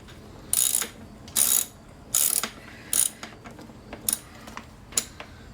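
Ratchet wrench loosening the left airbox retaining bolt on a 1984 Honda 750 Nighthawk S motorcycle, close up: several bursts of sharp ratcheting clicks at an uneven pace, followed by fainter, shorter clicks, with no talking.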